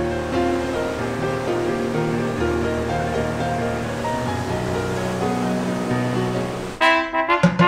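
Ocean surf at the Tijuana beach on the Mexico–US border, a steady, loud wash of breaking waves with a rougher surge near the end.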